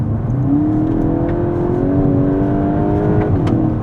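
A Volkswagen Golf GTI Clubsport hot hatch engine revs hard under full throttle, its pitch climbing steadily in one sustained, loud pull with a rising whine.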